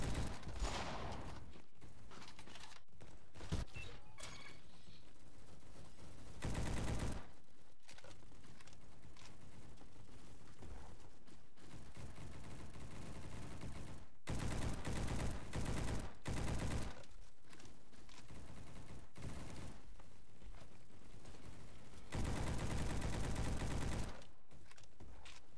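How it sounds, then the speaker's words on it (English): Bursts of automatic assault rifle hip fire in the shooter game Bad Business, loud rapid volleys separated by short pauses, with no talking over them. "That hip fire ain't bad. Yeah, I think that's about pretty good for a assault rifle of this caliber."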